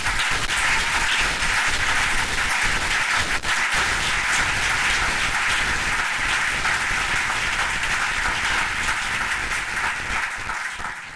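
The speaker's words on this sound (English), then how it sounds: "How about a round of applause for them?" An audience at a 2013 moot court competition applauds steadily for about eleven seconds, a dense, even wash of many hands clapping with no voices over it.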